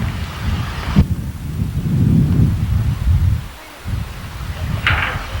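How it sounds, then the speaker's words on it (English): Gusty wind in Hawaii buffets the microphone in deep, rumbling bursts, easing briefly before picking up again, with no talking. "It's a windy day."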